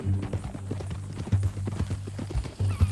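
Horse hooves clip-clopping in Red Dead Redemption 2, a steady close walking rhythm of repeated hoof strikes over a low ambient hum, with no talking.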